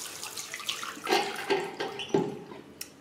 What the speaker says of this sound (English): So rinse it out with cold water,